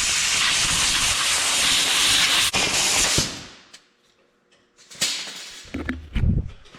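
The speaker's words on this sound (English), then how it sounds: "I'm gonna blow this thing off and get it cleaned." A burst of compressed air hisses loudly and steadily for about three seconds to blow oil off a truck differential in a shop, then cuts off, followed by a few softer short blasts and clunks.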